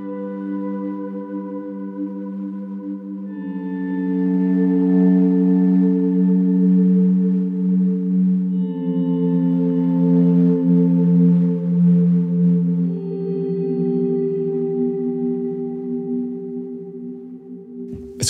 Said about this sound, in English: This lovely fuzzy sound to it, and the harder you hit the notes, the more distorted it sounds.